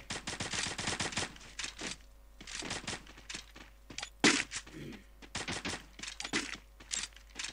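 Automatic gunfire from the mobile shooter Free Fire comes in rapid, repeated bursts of sharp cracks separated by short pauses. One louder, heavier shot stands out near the middle.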